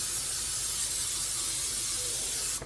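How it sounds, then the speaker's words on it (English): Cooking spray hisses onto a baking pan in one continuous, close aerosol burst lasting a couple of seconds before cutting off abruptly. "we are going to spray our pan"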